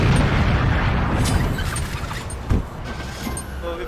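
A loud explosion goes off in a restaurant during a comedy skit, a heavy broadband blast that rumbles and slowly decays, followed by a small crackling burst of debris.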